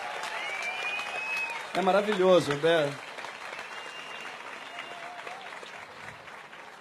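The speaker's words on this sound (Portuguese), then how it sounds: "palmas para eles também" A crowd claps loudly at a political rally, with dense applause running the whole time. A speaker's voice briefly rises over it before the clapping settles into a steadier wash.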